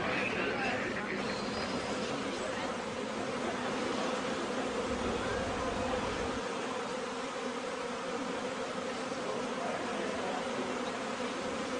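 Swarm of honey bees with no honey to protect, a dense continuous buzzing hum that stays loud and steady throughout, with a voice talking over it.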